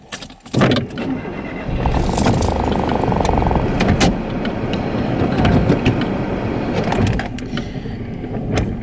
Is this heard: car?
yes